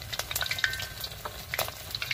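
Scored chicken thighs fry in hot oil at home, giving a steady bubbling sizzle with scattered sharp pops and crackles, close and fairly loud, with no talk over it.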